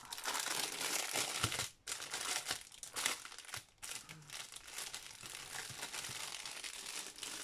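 Crinkly plastic packaging rustles and crackles continuously up close, with brief pauses between bursts of handling.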